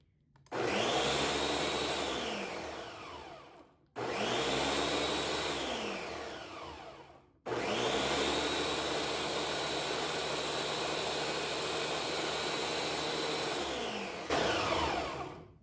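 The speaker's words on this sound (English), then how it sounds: "as you can hear, it blends and it stops. It blends again and it stops." A blender whirs loudly in three bursts, stopping abruptly between them, the last run long and steady before a brief restart.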